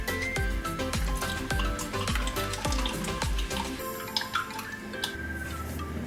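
Liquid wax trickles and drips from a leaking candle mold, a busy, continuous spattering with sharp little drops and a sizzling, watery texture, close and fairly loud.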